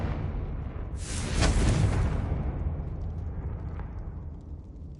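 A Confringo blasting spell in Hogwarts Legacy bursts into a loud, broad explosion about a second in, then decays into a long rumbling tail that slowly fades away.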